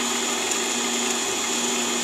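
A mini-lathe drills a 0.5 mm hole into a long soft bolt, giving a steady high-pitched motor whine with a constant tonal hum that runs unbroken and close.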